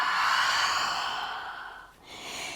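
Long, breathy exhale during a yoga forward fold, a soft airy rush of breath that tapers off near the end before a short follow-up breath.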